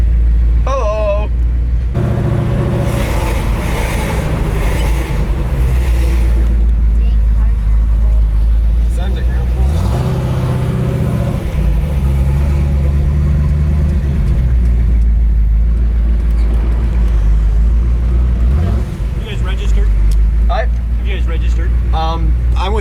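A Chevrolet Camaro revs hard at a burnout contest, its loud engine roar surging and falling over the crowd noise, with people talking nearby.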